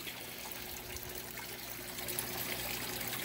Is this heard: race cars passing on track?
no